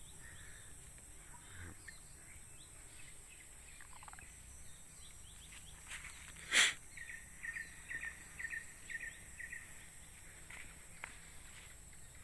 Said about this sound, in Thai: เสียงนกร้องเจ้าเจ้าเจ้าเจ้าครับ